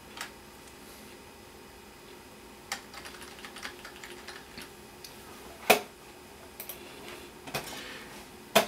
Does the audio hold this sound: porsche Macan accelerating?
no